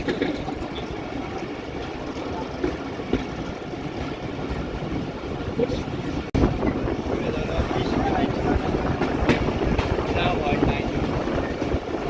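A mail train on the Rajbari to Bhatiapara Ghat route creeping along a restricted section at about 10 km/h, heard from on board as a continuous broad rumble and rattle that swells slightly partway through, with no clear speech.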